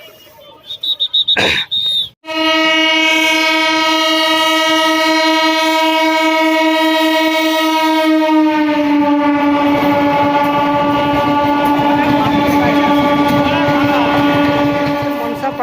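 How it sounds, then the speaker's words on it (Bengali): A loud, sustained train horn blares for many seconds as a train approaches on a rail line beside a Manasa temple in Jagpur, its pitch dropping slightly partway through, with rumbling noise building underneath. "ওই ট্রেন আসছে ওই দিক থেকে"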